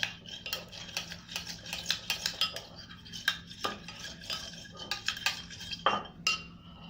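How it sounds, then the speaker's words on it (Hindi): Shawarma marinade with olive oil being mixed in a bowl, a spoon scraping and clinking against the sides in quick rhythmic strokes, close and clear with no talking. "अब इसको बहुत अच्छी तरह हम मिक्स कर देंगे।"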